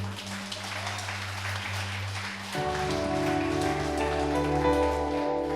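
A large church congregation applauds steadily, a dense wash of clapping that swells and holds, with a low sustained musical tone underneath.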